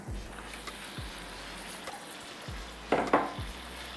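Prawns being stirred into gongura masala in a pan: soft sizzling under repeated spatula scrapes and clinks against the metal, with a louder burst of stirring near the end.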